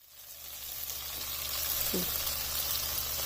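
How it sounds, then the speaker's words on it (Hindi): Mutton keema frying (bhuna) in a pan over a high flame gives a steady, close sizzling hiss that grows slightly louder, with a brief scrape of stirring midway. "अब यहाँ पर फ्लेम को तेज़ कर देना है और इसे भून लेना है"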